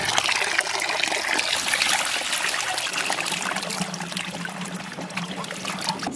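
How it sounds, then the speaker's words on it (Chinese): Water runs and trickles steadily while raw donkey liver is rinsed several times to wash out the blood, a close, continuous splashing stream with no talk. "驴肝上的血水比较多，多洗几遍，把水洗清"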